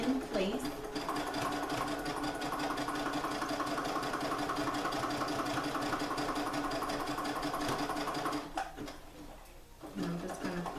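Sewing machine stitches elastic onto a chiffon skirt, a steady near whirring run for about eight seconds that breaks off briefly, then restarts for a short backstitch.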